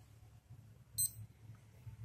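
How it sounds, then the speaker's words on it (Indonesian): North Edge Tank watch timer alarm gives one short, faint high beep in an otherwise quiet room, with a low background hum. "Nah, alarm."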